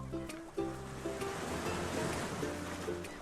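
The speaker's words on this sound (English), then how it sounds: "Yep, that's the tide coming in." Sea waves wash in as the tide rises, a steady broadband rush of surf that stays loud and close throughout, with a low boat-like hum and wind underneath.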